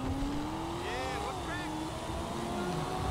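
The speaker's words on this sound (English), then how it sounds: "I especially love the sound of this car, guys." A Lamborghini engine in GTA 5 hums and whines steadily, its pitch sliding up and down with shifts, faint and continuous.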